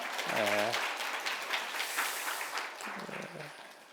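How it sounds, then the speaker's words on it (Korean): A church congregation applauds during a Sunday worship service, a short burst of clapping between bits of spoken talk at the start and end. "일어서시고 크게 박수로 환영하겠습니다"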